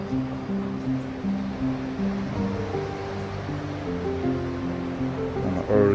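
Ocean surf washing along the coast in the Greyhound Beach area early in the morning, a steady broad wash of waves with no speech, swelling slightly near the end.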